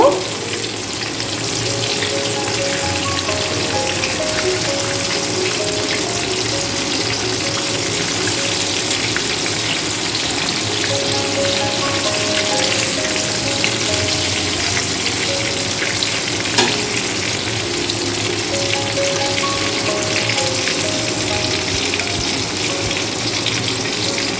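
KFC-style chicken fries in oil over a low flame, a loud, close, continuous crackling sizzle that holds steady throughout with no talking.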